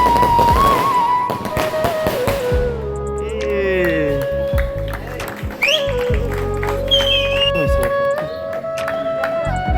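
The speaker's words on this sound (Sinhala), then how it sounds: "ඉතින් ඔන්න දැන් මල් වෙඩි දානවා" Fireworks go off at a youth camp, sharp pops and bangs with crackling and whistles scattered among people talking and other background sounds.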